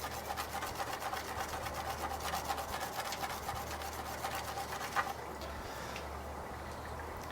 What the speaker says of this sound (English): you can kind of polish it up with the palm of your hand as well